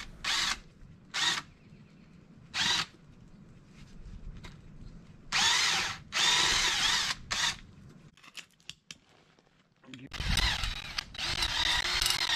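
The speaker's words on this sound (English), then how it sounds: "I did use my auger to just loosen up the soil and make it nice and fluffy for the roots of the hostas to grow in." A power auger loosening garden soil for planting hostas comes through as several loud, close bursts of harsh whirring, each a second or more long, separated by quieter gaps and a few small knocks.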